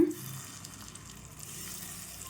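Stuffed bitter gourd pieces hissing as they fry in hot oil in a pan, a steady soft sizzle after a brief louder onset, with no talking.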